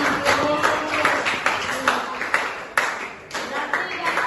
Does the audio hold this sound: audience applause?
yes